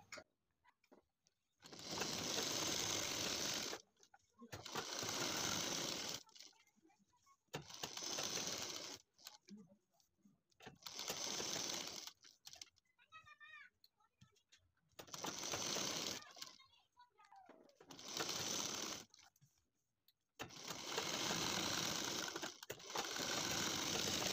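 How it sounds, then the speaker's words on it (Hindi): A sewing machine stitches along the buckram edge of a kurti neckline in about seven loud, buzzing bursts of several seconds each, separated by short quiet gaps. "बुकरम की जड़ में यानी बुकरम की किनार किनार सिलाई लगा लेना है पूरे नेक पे"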